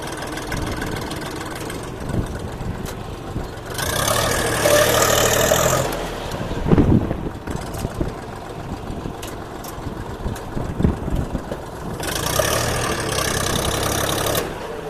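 A Scout 244 mini tractor engine runs at a steady idle throughout, with louder bursts of mechanical noise and some rattling clatter over the low, continuous engine drone.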